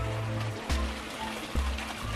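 An Amazon AP4000 submersible pump circulates water in a tank of about 200 gallons, giving a continuous churning, splashing flow with a low hum and two brief louder surges.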